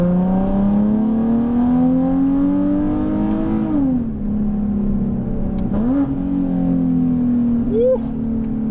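A Nissan 370Z sports car engine revs steadily higher, drops, then revs again in short bursts, loud and close throughout.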